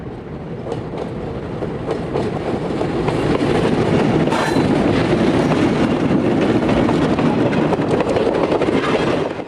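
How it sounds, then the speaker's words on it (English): A Santa Fe passenger train headed by an FP45 and F45 diesel locomotive pair with a steam generator car rumbles past close by. A loud, steady roar with clickety-clack wheel beats builds and holds, with a brief high squeal midway. "we see train number 2 heading east with an FP45, F45, and steam generator car at the head end"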